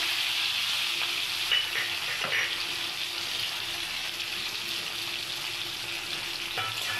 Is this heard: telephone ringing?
no